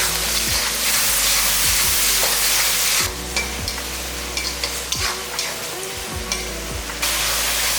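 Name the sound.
onion and tomato sautéing in pan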